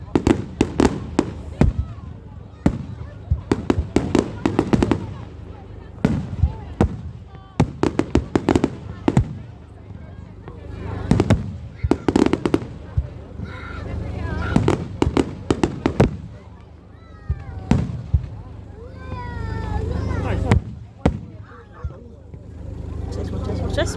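Bonfire night fireworks bang and crackle in repeated loud bursts, some sharp and near, others rolling, with excited voices talking and exclaiming between and over the explosions.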